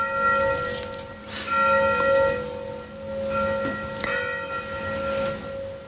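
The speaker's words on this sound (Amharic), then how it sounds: "ደወል እየደወለ ነው" A church bell rings out clearly at moderate distance, with several resonant strokes whose long humming tones linger and fade between strikes, with no voices.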